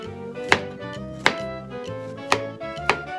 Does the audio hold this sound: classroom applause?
no